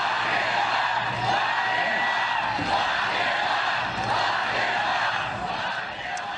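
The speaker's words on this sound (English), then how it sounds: "Florida rally crowd breaking into chants of lock him up after newly surfaced alleged Hunter Biden" A large political rally crowd in Ocala, Florida chanting "lock him up" in unison, a dense roar of many voices rising and falling in steady rhythmic waves.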